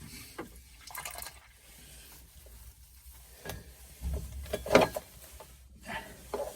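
Coolant draining from the coolant pipes of a Porsche Cayman or Boxster, irregular splashing and trickling liquid with a few knocks, quiet at first and louder near the end.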